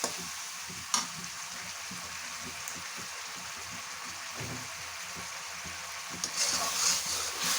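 Malta (orange) chutney being stirred and cooked in a pan, a soft steady sizzle with scattered scraping stir strokes and a few louder clicks, continuing throughout at moderate level.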